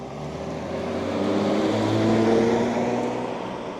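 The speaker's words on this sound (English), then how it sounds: "And off goes the F50." A Ferrari F50 pulls away at a car show in the USA, its engine note swelling and then easing off as it moves away over a few seconds, with no talking.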